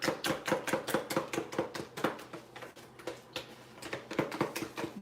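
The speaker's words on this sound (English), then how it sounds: "If y'all hear me in the background, that's me over here mixing" Banana pudding being mixed in a bowl, giving quick rhythmic clacks of a utensil against the bowl in bursts with a brief pause midway, fairly faint and with no voices.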